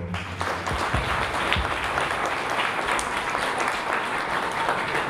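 An audience at a Christmas carol concert evening in Dărmănești applauds an honoree during an award presentation; the clapping is thick and continuous, steady and fairly loud throughout, with faint crowd murmur underneath.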